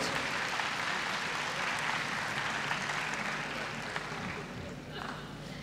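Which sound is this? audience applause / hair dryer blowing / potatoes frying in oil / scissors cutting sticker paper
audience applause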